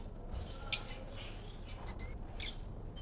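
A pair of all-yellow pet finches give a few short, bright chirps, one sharper call standing out briefly, over a low background murmur at moderate distance.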